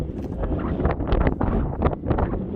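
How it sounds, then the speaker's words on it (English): A cold southerly wind buffets a microphone on an outdoor fishing trip, giving loud, gusty rumbles and rushes. The bursts swell and fade unevenly from one moment to the next. "It's a cold wind"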